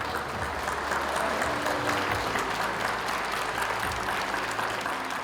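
A church audience in Incheon breaks into warm, sustained applause, a dense continuous clatter of many hands clapping without pause, fairly loud and close.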